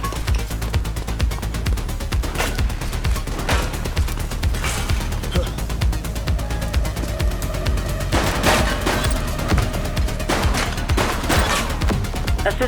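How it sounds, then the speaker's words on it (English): Gunfire in the video game The Precinct, sustained rattling bursts and dense cracking shots over a low rumbling bed, loud and continuous, with voices calling out over it. "Shots fired!"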